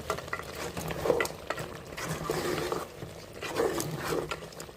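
Goat head curry is stirred in a pan, soft scraping and wet shuffling strokes in a slow irregular rhythm, quiet and close with a faint sizzle beneath.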